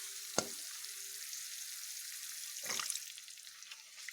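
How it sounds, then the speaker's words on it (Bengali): Water splashed into a sizzling pan of fried spice paste with sugar, a sharp hiss at the pouring followed by steady frying crackle and a second burst of sizzle, close by and without talk. "এবার আমি এখানে একটু জল অ্যাড করব"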